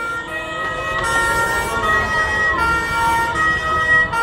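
A loud, nearby ambulance siren wails steadily with rising and falling tones over a low traffic rumble, and no voices can be heard.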